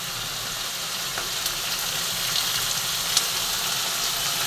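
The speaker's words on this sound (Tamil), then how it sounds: "இப்போ 3 தக்காளி நல்லா பெரிய தக்காளி தான் போட்டிருக்கேன்" Three large chopped tomatoes sizzle and fry in a pan of softened ingredients for a sambar and bitter gourd dish, a steady, close hiss with faint crackles and one brief sharper pop, no voices.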